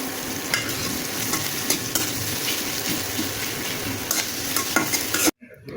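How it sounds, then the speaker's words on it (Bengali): Potatoes with salt and turmeric sauté in a pan with a splash of water, giving a loud, continuous sizzle and repeated spatula scrapes that cut off abruptly near the end. "তারপর সামান্য পরিমাণ জল দিয়ে আবারও ভালো মতো একটু কষিয়ে নিব"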